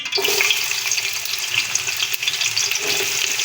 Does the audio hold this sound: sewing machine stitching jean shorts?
no